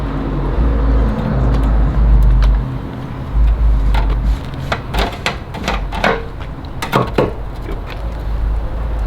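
A screw-blown supercharged Hemi engine with no gas in it cranks in a parking lot without catching, giving a steady, loud low rumble with scattered sharp clicks and knocks.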